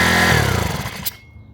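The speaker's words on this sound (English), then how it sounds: "I know absolutely nothing about engines or dirt bikes, but I know that this is not supposed to be like this." A cheap Temu dirt bike engine runs roughly in a loud, close, ragged burst that sputters and fades, then cuts out abruptly after about a second.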